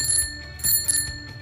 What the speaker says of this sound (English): Your bike should also have a bell or horn